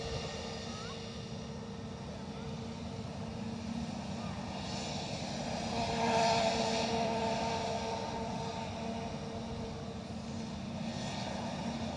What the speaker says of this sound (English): We have an ATR inbound from Newquay.